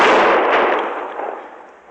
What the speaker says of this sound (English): Somebody was shooting at me, Chester.